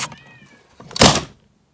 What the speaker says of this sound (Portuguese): Pera que o gato tá miando